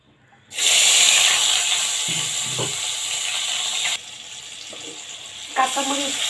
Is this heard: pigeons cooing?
no